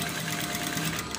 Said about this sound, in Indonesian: Lalu kita jahit.